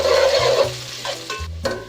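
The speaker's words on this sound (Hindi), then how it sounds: "प्याज डाल दूँगी, प्याज को गोल्डन ब्राउन होने तक पकाऊंगी इसमें" Onions frying in hot oil in a pan for aloo matar pulao, a steady close sizzle with stirring scrapes running throughout, no talking.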